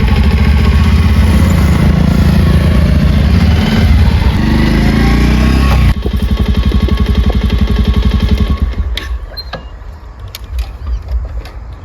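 A motorcycle engine runs loud and close with a steady buzzing drone that later changes pitch and then fades into a lower, uneven rumble.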